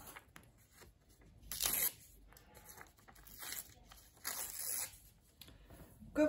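Edges of a sheet of folded paper torn by hand, several separate ripping strokes of about a second each with quiet gaps between, close and crisp.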